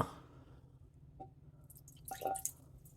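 Water splashes and drips as excess water is poured out of a cooking pan, a brief gush near the end over a low steady background hum.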